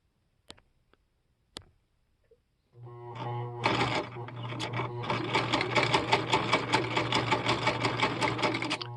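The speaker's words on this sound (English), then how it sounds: "this is straight stitch. And then I'm going to turn it into zigzag." After a few soft clicks, a restored Husqvarna Viking 6440 sewing machine starts up and stitches zigzag at steady speed, a close, loud, rapid mechanical chatter over a constant motor hum.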